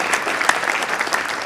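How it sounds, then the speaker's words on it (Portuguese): Steady clapping from an audience at a Clube dos Seguradores da Bahia awards and social gathering fills the room, dense and even throughout. "através do meu amigo George Carneiro, a quem eu peço uma salva de palmas também"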